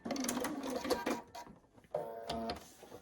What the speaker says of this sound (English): Is how you sew that section together